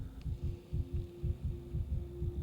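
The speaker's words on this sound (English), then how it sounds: "Fast heartbeat" A fast heartbeat from the game Pathologic 3 throbs in steady, rapid double pulses, low and muffled over a constant faint hum.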